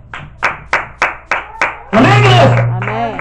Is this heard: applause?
yes